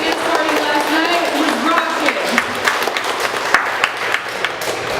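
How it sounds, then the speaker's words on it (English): A convention closing-ceremony audience applauds a DJ, a dense wash of clapping that carries on steadily at moderate loudness, with voices talking over it. "So give her a big round of applause"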